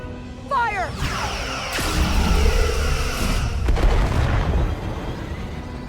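Starship weapons fire in the Star Trek: Resurgence game during a space battle, a dense rumbling blast with booming impacts, whooshing bursts and crackling sweeps that last throughout, loud and close.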